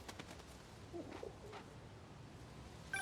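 Pigeon cooing in the Marvel's Spider-Man video game, a faint, brief burst of soft low coos in the middle of a quiet game soundscape, with no talk.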